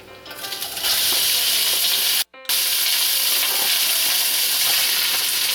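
About three cups of cooked sticky white rice frying in an oiled wok, a loud dense sizzle and hiss that swells in within the first second, cuts out briefly, then resumes steadily and close, with no talk.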